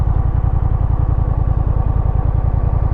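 A Honda Rebel 1100 motorcycle engine thrums with a steady, rapid low pulsing while being ridden, heard close and loud and unbroken throughout, with no talking.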